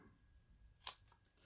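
Small, pretty scissors snip a strip of quilting fabric in a single quiet cut, a short crisp shearing sound against a very still, hushed room.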